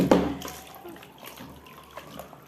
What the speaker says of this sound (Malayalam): ഇത് ഇതിൽ കുറച്ച് വെള്ളം ഒഴിക്കുകയാണ്